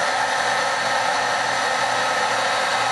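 A heat tool blows and hums steadily while melting Clearsnap Top Boss white embossing powder, a loud, constant airy whir with no voices.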